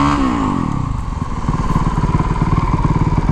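A motorcycle engine runs loud and close, its note dropping and then settling into a steady rhythmic chugging as the bike brakes hard into a stoppie on the front wheel.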